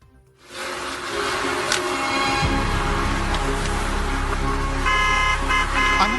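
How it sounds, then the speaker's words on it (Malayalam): Car horns honk amid dense road traffic in Dubai, a sustained wash of engine and road noise with several short horn toots poking through, fairly loud and continuous, with no voices. "ദുബായിൽ അനാവശ്യമായി ഹോണടിക്കുന്ന ഡ്രൈവർമാർ ഇനി സൂക്ഷിക്കണം"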